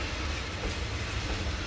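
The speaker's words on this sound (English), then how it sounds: "The train crossing ours at this point is heading in the direction of Daban to the east." Passing train on a Chinese railway line, a loud continuous rumble of wheels and cars rolling by close at hand, with no voices.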